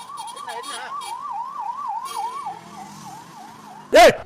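A wailing ambulance siren rising and falling rapidly, moderately close, ending with a brief loud burst.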